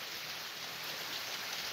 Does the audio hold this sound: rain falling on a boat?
yes